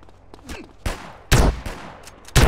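Gunfire in a police video game: three loud bursts of shots, the first at about 0.85 s and the next two arriving about a second apart. Fainter shots crackle in the gaps, and no voices are heard.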